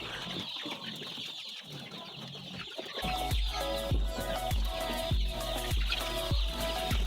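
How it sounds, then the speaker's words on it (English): Fifteen-day-old layer chicks cheep and cluck in a brooding house, a busy flock of overlapping high calls with rhythmic sharp knocking, like pecking at a feeder, joining partway through. "These are day 15 chicks."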